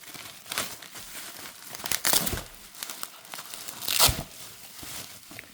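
Crinkling and tearing of packaging as a Sterling Ink B5 work planner is unboxed, with several bursts of rustling and ripping close by, no talking.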